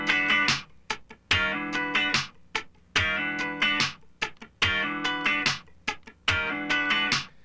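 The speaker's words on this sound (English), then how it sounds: "Now if we bring the right hand down and scratch the whole way," Funk rhythm guitar strummed with the right hand scratching continuously through every sixteenth, blending ringing chord hits with dense muted scratches in a tight, repeating, close-miked groove.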